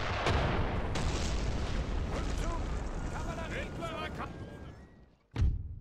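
Artillery thunders across a Napoleon: Total War battlefield, with a dense, continuous rumble of booms and cannon fire that fades before a final sharp blast, while someone speaks over it.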